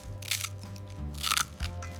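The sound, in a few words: potato chips crunching when bitten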